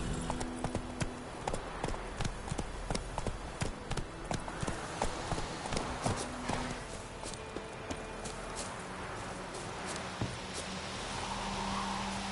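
Geralt's horse Roach in the video game Witcher 3 clip-clops along at a steady walking rhythm, hooves clear and close, with faint background game sounds.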